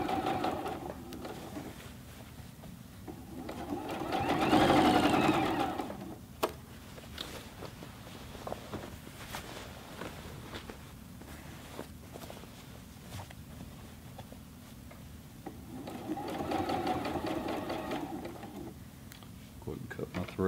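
A Juki G210 sewing machine sews through the thick denim of a jeans leg hem in two slow, labored bursts separated by a quieter stretch, with a person speaking at times.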